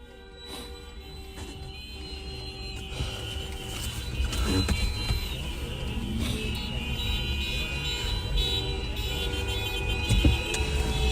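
Many cars in a chase make a steady traffic rumble that builds louder midway, with engine drone, tonal whines and a few sharp knocks layered over it, and no talking.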